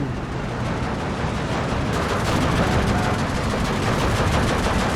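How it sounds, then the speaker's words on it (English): Battle audio from the WW2 strategy game Steel Division 2, with a T-34 tank firing its cannon amid Marder tank destroyers at close range. Dense, continuous rumbling gunfire and blasts stay loud throughout. "T-34 again nailing its shot"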